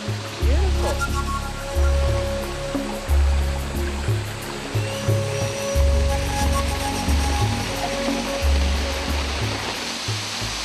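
Waterfalls rush in a steady, loud broadband roar at a campsite beside them, with a low droning hum running underneath.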